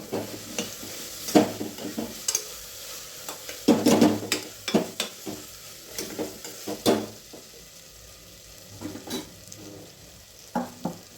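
Pav bhaji masala being stirred into frying vegetables, with irregular bursts of spoon scraping and clatter against the pan over a soft background sizzle, loud close strokes separated by quieter pauses.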